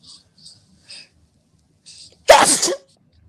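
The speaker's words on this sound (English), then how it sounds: "I'm gonna sneeze." A single loud, explosive sneeze bursts out after a few faint breaths, close to the listener and over in under a second.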